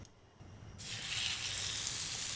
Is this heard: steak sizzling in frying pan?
yes